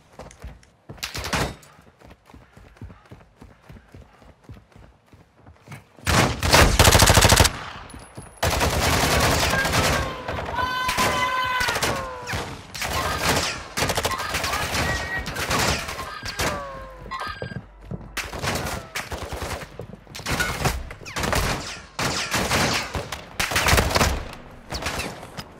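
Gunfire in the video game DMZ: loud close bursts of automatic fire and single shots come in clusters, with a dense stretch of sustained shooting in the middle and brief pauses between volleys.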